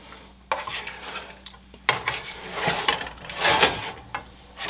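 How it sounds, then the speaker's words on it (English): A skillet of shrimp sauce is stirred on a stovetop, giving intermittent close scraping and clattering bursts of utensil against pan with soft sizzling between them. "Skillet keeps sliding."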